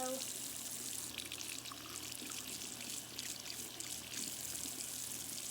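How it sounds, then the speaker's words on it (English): Tap water runs steadily into a sink while makeup brushes are rinsed under it, a continuous close splashing and trickling wash with no talk. "or you can run water like this and rinse them"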